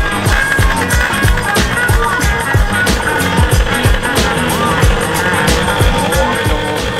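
Small 82cc big bore scooter engine held at about quarter throttle with the rear wheel up in the air, a loud, steady buzzing drone with a rapid pulsing beat running continuously throughout, with no talking over it.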